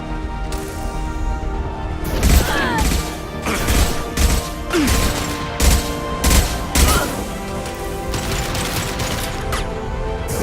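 Weapon fire in Mass Effect 2, several heavy shots and impacts with a clattering edge over a steady musical score.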